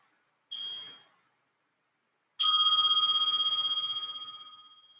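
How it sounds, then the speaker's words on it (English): A meditation bell sounds twice: first a short, damped ding, then a full strike that rings out bright and clear, decaying slowly with a gentle shimmer over several seconds in a quiet room. "with the sound of the bell, we're going to bring our attention back into the room, into the sounds around us."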